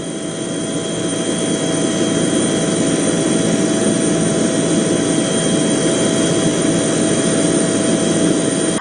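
An aircraft flies over flood-affected areas during the Chief Minister's aerial survey, its engine a loud, steady, continuous roar with a constant whine, close and unbroken throughout.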